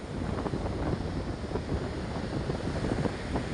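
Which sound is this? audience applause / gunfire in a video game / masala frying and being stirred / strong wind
strong wind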